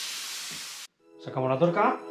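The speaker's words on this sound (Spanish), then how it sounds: "Abrimos obús. Y a deshinchar." Air escapes from an MTB tire valve as the core is opened to deflate it, a strong steady hiss lasting under a second that cuts off abruptly. A person speaks right after.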